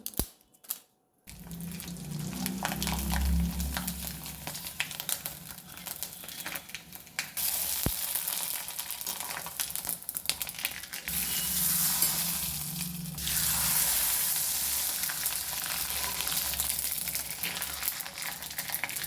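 Sun-dried sago papads deep frying in hot oil: after a brief quiet start, a loud, continuous hissing sizzle rises and holds steady, swelling slightly in places, with no voices.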